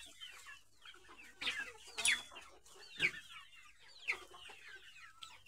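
Chickens cluck in short, scattered bursts, a handful of calls spaced a second or so apart, fairly soft against a quiet background.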